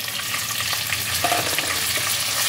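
Chopped tomato frying with onion in a pan for a spicy pabda fish curry, a loud, continuous close sizzle with faint scraping of a spatula underneath.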